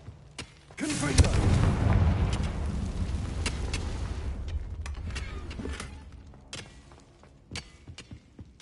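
A Confringo fire spell detonating in Hogwarts Legacy: a heavy booming explosion with a long rumbling roar that slowly decays, followed by scattered sharp cracks and thuds as it fades.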